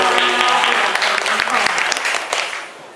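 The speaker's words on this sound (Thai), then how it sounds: "ขอเสียงปรบมือให้ทั้งสองคนนะครับ" Loud, dense applause from an audience at an interview event at a library music session, heavy and steady for about two seconds before tapering off, with voices mixed in.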